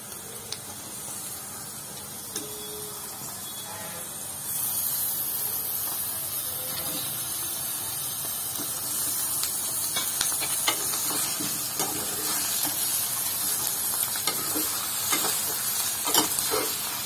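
Chicken pieces dropped into a pan of sautéed onions, frying with a soft, continuous sizzle and hiss that swells and grows louder partway through, with occasional stirring scrapes and no talk.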